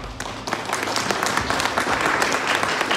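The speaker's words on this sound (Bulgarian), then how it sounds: "на Гергана Тонева, за аплодисменти" Audience applause fills a hall at a painting exhibition by a Plovdiv artist: dense, steady clapping from a sizeable crowd, close and loud for the full three seconds, with no speech over it.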